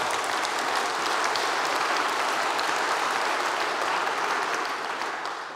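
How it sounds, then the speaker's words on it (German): A members' meeting audience applauds steadily, dense clapping from many hands filling the hall for several seconds before tapering slightly at the end. "Applaus"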